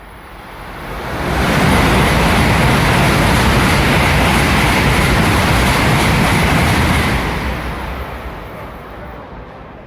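A Shinkansen bullet train in Japan roars past continuously for several seconds, a loud rushing rumble that swells in and fades slightly toward the end.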